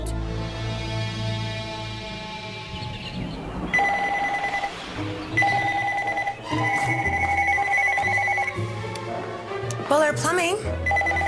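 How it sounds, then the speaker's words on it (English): A loud telephone rings repeatedly in bursts in a busy home near the kitchen, its bell tones pulsing over ongoing talk and household noise. "The phone doesn't stop ringing. It's constantly ringing. It's really loud as well."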